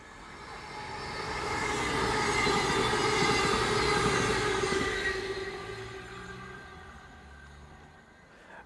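A train passes at Dawlish on the Devon coast, rumbling in from a distance, building to a loud wheel roar with a sustained metallic whine, then fading away.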